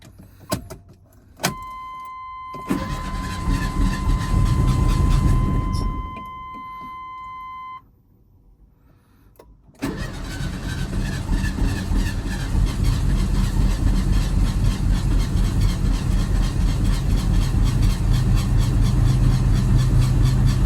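Chevy S10 pickup's engine cranks and catches after fuel pump and injector work, then settles into a steady, close idle, with a brief electronic tone and a pause before running continues.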